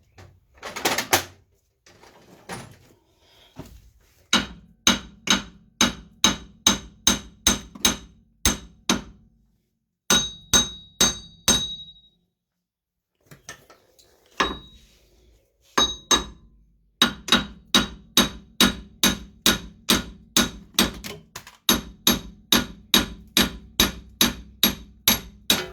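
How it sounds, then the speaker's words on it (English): A hammer strikes a car's rear wheel bearing on a Ford Mondeo Mk3 in sharp metallic blows. They come in steady rapid bursts separated by short pauses, loud and close. "Should get a bigger hammer really, but as you can see, that done the job."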